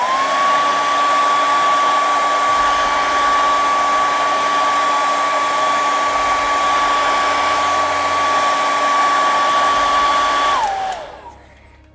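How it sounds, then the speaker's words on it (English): A hair dryer blowing steadily at close range to warm a Battle Armor He-Man action figure, a loud constant whirring hum that runs for about ten seconds before switching off and winding down. "am going to use the hair dryer trick to warm things up"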